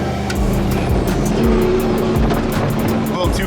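An off-road truck runs fast near San Felipe, its loud engine roaring close and steady, the revs dropping and surging again as it brakes hard and powers into a turn, with brief voices under the noise.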